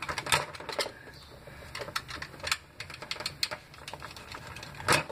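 Small pieces of 1/4-inch hose being cut, heard as a series of sharp snipping clicks and crunches, close and fairly loud, with a stronger cut near the end and no talking.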